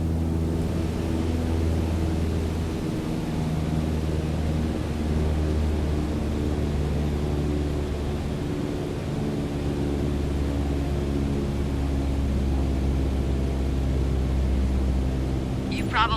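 Steady propeller aircraft engine drone at reduced throttle of about 1,800 RPM in Microsoft Flight Simulator, a continuous low hum and rumble throughout with slight shifts in pitch.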